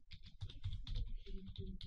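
Computer keyboard typing while entering a resource name in Microsoft Project 2016, a quick run of close, light key clicks in an uneven rhythm, quiet and alone.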